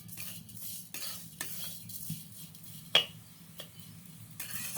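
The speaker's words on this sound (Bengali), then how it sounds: "এই চিনিটা নারকেলের সাথে ভালোভাবে মিশিয়ে নিচ্ছি" A sugar and coconut filling is stirred in a pan, with soft scraping strokes and a few sharp clinks of the spoon against the metal, set over a low sizzle.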